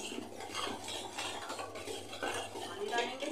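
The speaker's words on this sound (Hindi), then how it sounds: "ये 1/4 बेकिंग पाउडर डालेंगे और इसे अच्छे से मिक्स कर लेते हैं" Batter with baking powder stirred in a bowl while making batata vada, giving a steady scraping and clinking of a spoon against the bowl, with some voice in the background.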